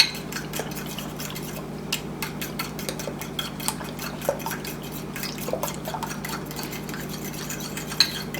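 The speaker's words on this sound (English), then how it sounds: "we're gonna scramble up 3 eggs" Three eggs are beaten in a bowl with quiet, irregular clinks and ticks of a utensil against the bowl over a soft steady background hum, with no talking.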